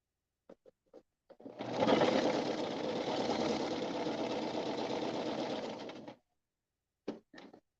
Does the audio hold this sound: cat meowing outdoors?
no